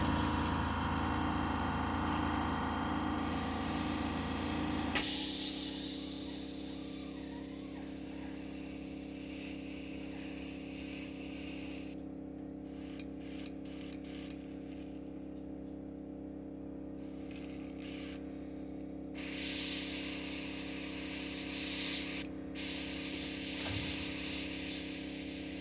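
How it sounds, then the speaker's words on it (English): An airbrush sprays paint onto a fishing lure, giving a close, steady hiss over a low compressor hum, broken by several short bursts and stops in the middle, with no one talking. "clean out the airbrush"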